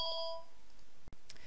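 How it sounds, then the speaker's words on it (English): A phone gives an incoming-call alert during a software training session: a few clear, steady electronic tones near the start, then a short click and a faint later chirp, with no talking. "Phone call, apologies."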